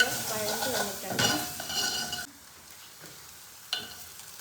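A spatula scrapes and stirs banana pieces sautéing in a metal pan, with soft sizzling and clinks of utensil on pan for about two seconds, then near quiet with one brief clatter.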